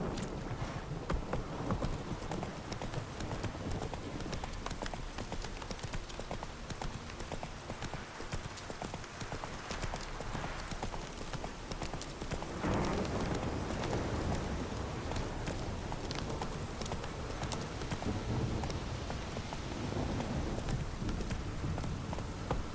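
A horse gallops in the video game The Witcher 3, its rapid, steady hoofbeats loud and continuous throughout, with a brief lull partway through before the pace picks up again.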